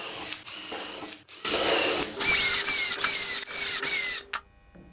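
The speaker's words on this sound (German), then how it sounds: "Nur noch rasch am Hinterstück das Ganze vorgebohrt und verschraubt." Power drill whirring in short bursts while pre-drilling and driving screws into the wooden back piece of a drawer, several loud revving runs with pauses and screw-tightening strain, no talking.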